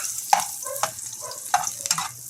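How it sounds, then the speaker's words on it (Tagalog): Eggplant frying in a pan, with soft sizzling and a few sharp clatters and stirring knocks spread across a couple of seconds, close and moderately loud. "pirituin lang natin yung ating talong dyan"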